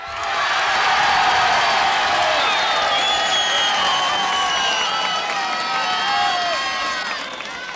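An audience at the 1972 Cantagiro music event applauds and cheers a band, a dense, loud wash of clapping with shrill whistles threading through it, sustained throughout.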